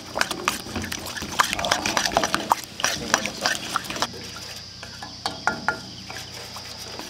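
Ground green chili masala is worked by hand over beef ribs, giving close, wet squelching and irregular rubbing clicks that fade into quieter sporadic touches toward the end, with insect-like background and a little speech.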